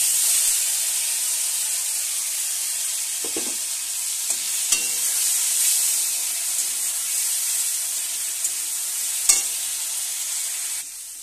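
A spice paste fries in hot oil in a pan with a continuous close hiss and sizzle, broken by scraping stirs and a few sharp utensil knocks, with no voices.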